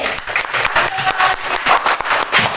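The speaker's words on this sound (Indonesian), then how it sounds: "beri tepuk tangan lagi" A short burst of lively clapping from a classroom full of children, loud and continuous throughout.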